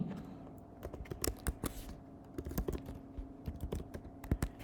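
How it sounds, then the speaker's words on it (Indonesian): Keys on an ordinary computer keyboard clack in irregular bursts, quick runs of taps broken by short pauses, close up over a faint steady hum with no voices. "pengetikannya kita menggunakan keyboard yang biasa seperti keyboard pada umumnya"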